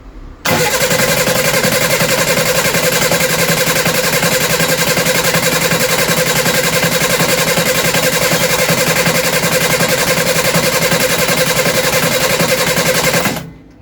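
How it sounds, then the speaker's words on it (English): The engine of a Reliant Supervan 3 van is cranked without firing, a loud, fast, even churning of the starter that runs for about thirteen seconds before stopping abruptly. "When I crank this, I've not got the cord connected, so it won't start."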